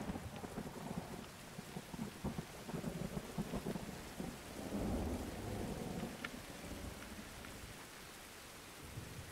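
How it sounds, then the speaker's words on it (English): Rain and thunder in a survival video game set after a shipwreck: steady rainfall patters throughout while low thunder rumbles swell and fade, fairly quiet and with no talk. "Here comes the rain."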